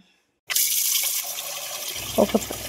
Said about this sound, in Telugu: ఒక గిన్నెలో వాటర్ తీసుకొని